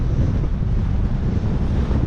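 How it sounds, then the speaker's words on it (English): Heavy wind buffeting a microphone outdoors, a loud continuous low rumble with gusty fluctuations and no other sounds. "I know you probably can't hear me because of the wind"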